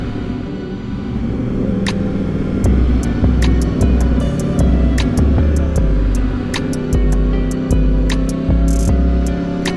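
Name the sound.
Yamaha R1 motorcycle with CP4 engine riding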